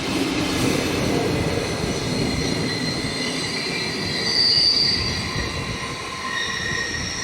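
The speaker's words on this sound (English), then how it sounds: "we see the same locomotive heading west, with another Glacier Express working" Glacier Express train hauled by a locomotive heading west through an Alpine valley near Disentis, its wheels squealing loudly and steadily against the rails over a continuous rumbling roll, with no voices.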